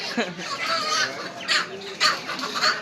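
A chicken clucks and squawks while being carried upside down by one leg at a poultry market, with agitated bursts close by over a busy background of chatter and market noise.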